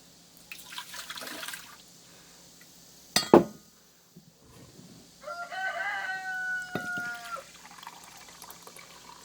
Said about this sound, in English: The rooster hears me talking and he's got to talk.